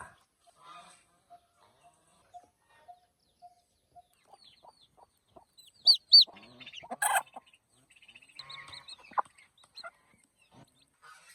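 A native hen with newly hatched chicks under a mango tree on a rural farm gives soft repeated clucks, faint and spaced, then a burst of louder calls and chick peeps in the middle.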